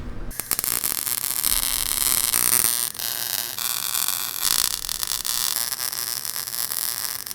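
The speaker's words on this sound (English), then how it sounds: "And now we just gotta weld her up." Continuous crackling, buzzing hiss of metal being welded for a homemade rear bash bar, loud and close, holding steady for several seconds with short breaks where the arc stops and restarts, no talking.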